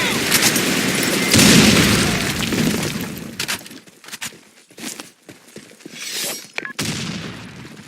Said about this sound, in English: Fire in the hole! Grenade! Fire in the hole!